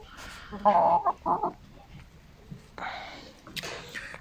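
Light Brahma chickens, young hens about seven to eight months old, cluck close by in short bursts and soft murmurs, with brief gaps between calls and a quiet outdoor background.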